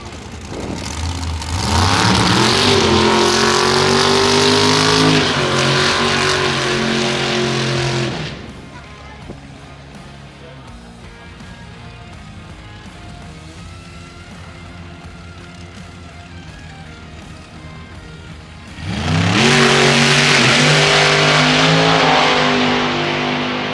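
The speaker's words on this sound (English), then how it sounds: "this thing just sounds totally different, being such a massive big block into the 600 cubes" A drag race car with a massive 600 cubic inch big block engine roaring loudly as it launches and passes, fading to distant rumble, then a second loud surge of revving near the end.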